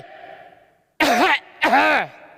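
Two loud, close, rough throat sounds in quick succession, like a voiced cough or throat clearing, after a quiet murmur of background sound.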